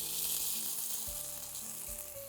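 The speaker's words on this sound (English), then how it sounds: "Saute the tomato puree till it dries out." Tomato puree with green chilies and chickpea leaves sautéing in a pan, giving a loud, continuous close sizzle that stays steady throughout the short moment.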